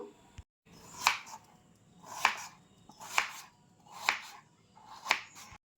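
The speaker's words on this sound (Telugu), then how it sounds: "వీటిని చిన్న చిన్న ముక్కలుగా కట్ చేసి మీకు చూపిస్తాను" A knife cuts a firm papaya into small pieces on a board, five evenly spaced crisp chops about a second apart, close and clear with quiet pauses between strokes.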